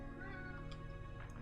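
A cat meows in Deadly Premonition 2, a short close call riding over a steady low game soundtrack hum.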